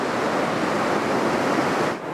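Ocean surf breaking on a beach, a steady loud wash of crashing waves that fills the whole clip and briefly dips near the end, with no voices.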